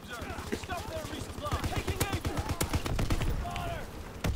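An MG 81 light machine gun in a WWII video game firing rapid bursts of loud, close shots in a steady rattling rhythm, with other gunfire and a voice talking underneath.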